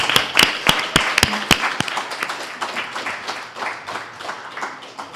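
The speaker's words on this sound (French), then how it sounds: "On peut l'applaudir." An audience applauds a Montreal mayoral candidate at the close of a question period, opening with a few sharp, loud claps that swell into dense, sustained clapping which slowly thins toward the end.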